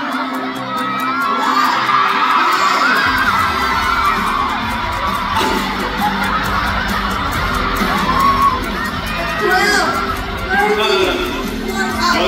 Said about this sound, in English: we will cheer. We will cheer him.